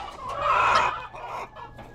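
Pet chickens in their coops cluck in a short burst of close, busy clucking, rising then tapering off.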